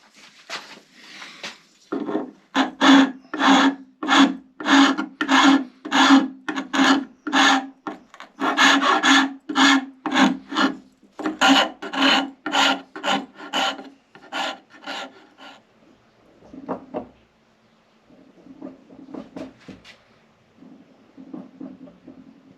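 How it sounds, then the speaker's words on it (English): Wood rasp flattening rough-cut notches in a wooden pedalboard part: steady rhythmic scraping strokes, close and loud, in a long run of evenly spaced strokes that slow and grow fainter and more scattered toward the end. "I'll flatten them using a rasp."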